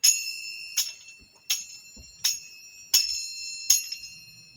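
A bell is struck six times at an even, steady pace, each clear metallic ring fading away before the next one.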